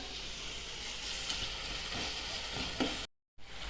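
Jaggery and grated coconut sautéing in a pan for sweet coconut rice, a steady close sizzle and soft stirring scrape running without talk, then cutting to silence briefly near the end before resuming.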